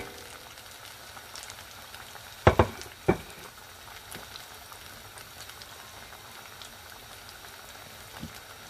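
Pakoras and bhajis frying in oil, a faint, steady low sizzle with a couple of sharp clunks and clatters partway through, no voices.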